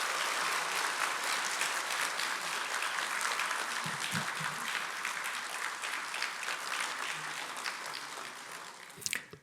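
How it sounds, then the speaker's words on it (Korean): Audience applause welcomes a speaker to a lecture hall, an even, continuous wash of many hands clapping that gradually eases off near the end. "큰 박수로 환영해 주시면 감사하겠습니다"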